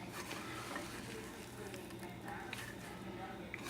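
Breaded two-ounce piece of Chilean sea bass frying in hot oil, a steady dense crackle and sizzle at moderate level throughout, with faint voice-like sounds underneath.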